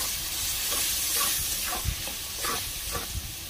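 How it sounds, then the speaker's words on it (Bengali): Spice paste being fried and stirred in a pan for a Bengali jackfruit and prawn dish, a soft steady sizzle and hiss with a few light scraping knocks, faint and close. "এখন এটাকে কষিয়ে নিচ্ছি, একটু ঢেকে ঢেকে পেস্টটাকে কষিয়ে নিচ্ছি"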